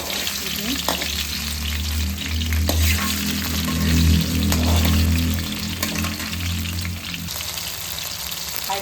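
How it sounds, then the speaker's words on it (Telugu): Chicken deep frying in hot oil for street-style chicken noodles gives a loud, dense, continuous bubbling sizzle, with occasional clatters as the pieces are moved about. "ఇలా డీప్ ఫ్రై చేసుకోవాలండి"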